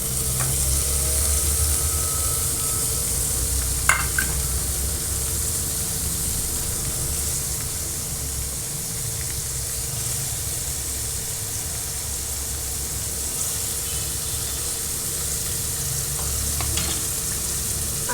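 Paneer sautéing in a pan with crushed coriander, a continuous close sizzle and hiss with low rumbling and occasional faint clicks of stirring throughout.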